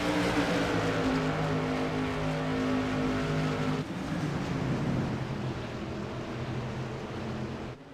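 SK modified race cars roar past on the track at Myrtle Beach, a loud, continuous engine drone that shifts in pitch midway as the field passes, with no voices.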